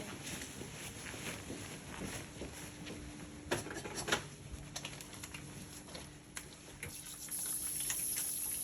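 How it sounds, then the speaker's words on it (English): Tap water running while hands are washed in a clinical room, a soft continuous splash with small clinks, fairly quiet and without talk. "Let me just wash my hands"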